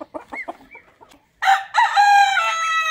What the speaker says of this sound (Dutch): Haantjes er keurig uit.